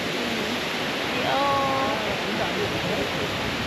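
Steady broadband rush of a waterfall in Hokkaido's Biei–Furano area, continuous and fairly close, with a faint voice briefly audible over the water.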